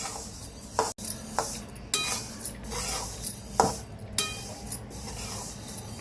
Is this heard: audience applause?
no